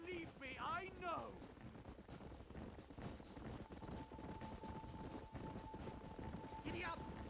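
Horse hooves clip-clop steadily under ongoing talk in a Western video game set in the Old West, with a brief whinny-like cry near the start and a sustained tone midway.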